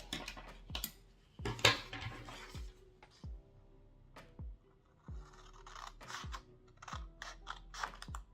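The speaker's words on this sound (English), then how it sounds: "And then I'm gonna cut it." Scissors snipping through a folded origami paper triangle, a series of crisp, close, quiet cuts in an uneven rhythm, heard alone.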